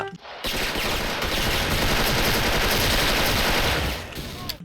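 Rapid automatic M4A1 rifle fire in the Special Force shooter game, a loud, continuous burst of closely spaced shots lasting several seconds before cutting off.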